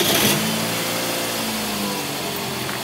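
Close by, a Toyota RAV4 engine runs with a continuous, even drone, holding a steady idle the whole time.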